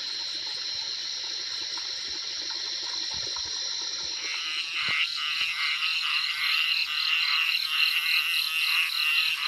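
Dense chorus of frogs croaking at night near a farm field in Thailand, a steady high trilling drone that thickens into pulsing, overlapping calls partway through, with no voices.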